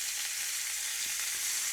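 Meat searing in a pan of ghee and clarified butter gives a steady, even sizzle with a few faint clinks, close and alone.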